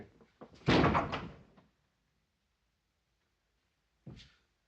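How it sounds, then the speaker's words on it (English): Banging on a door in a 1937 crime drama film, a loud burst of heavy knocks and thumps followed after a pause by one more single thud. "Quit banging on that door."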